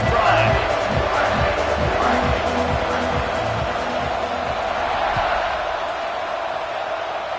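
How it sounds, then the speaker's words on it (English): A football stadium crowd roars with a broad, steady wash of cheering during a kickoff, loud and continuous throughout, with a commentator's voice running underneath. "Kickoff unit is out there again, and this crowd is feeling themselves after that last drive."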